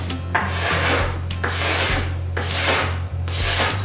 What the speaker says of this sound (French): je fais la partie donc concave du montant au racloir